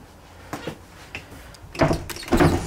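Double shower doors in an Auto-Trail Tracker RS motorhome sliding and closing, a few soft knocks and then two louder rattling slides with bumps, close by in a small cabin.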